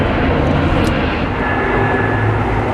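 An airplane flies low overhead beneath the LAX flight path, a loud, steady, broad engine roar that fills the whole moment with no speech.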